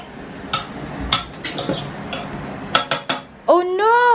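Pots, pans and cutlery clink in a home kitchen as dinner is cooked, a few sharp scattered metallic knocks in the foreground, followed by a voice rising and falling near the end.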